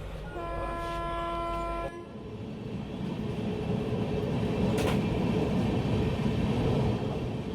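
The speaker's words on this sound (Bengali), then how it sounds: "রাত 10:15 আমাদের ট্রেন প্ল্যাটফর্ম থেকে রওনা দিল নর্থ বেঙ্গলের উদ্দেশ্যে।" A night passenger train to North Bengal pulls out from a station platform: a steady horn tone sounds for about two seconds, then a broad, rolling rumble of wheels and carriages builds and continues close and loud.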